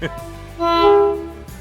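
A decorated train passes through a city just after Christmas, sounding a loud sustained horn blast that swells and fades over about a second, with some rumble beneath and brief voice nearby.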